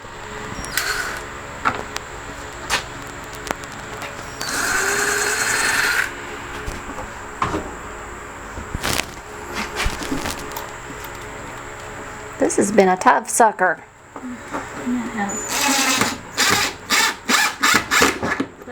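Short bursts of a power drill whirring into the wood of a bookcase, stopping and starting repeatedly, with someone talking briefly between them.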